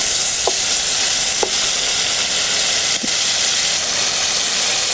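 Spice paste for a whole-cauliflower korma fries loudly in oil under a steady, dense sizzle, with a few short scrapes of a spoon stirring through the pan.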